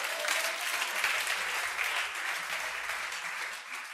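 Congregation applauding during a pastor's sermon at a church service, a dense, steady wash of many hands clapping at once, loud and sustained throughout with no speech over it.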